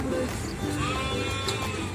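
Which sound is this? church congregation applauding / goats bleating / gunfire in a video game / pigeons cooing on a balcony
goats bleating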